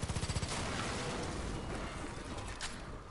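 An explosion in the Far Cry 5 video game: a burst of rapid booming blasts at the start gives way to a dense, sustained roar of gunfire and rumble that fills the rest of the moment.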